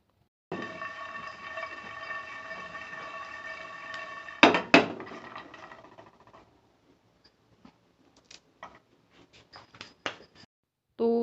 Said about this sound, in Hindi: कितनी अच्छी सी जो आवाज़ आई और आराम से टूट जाता है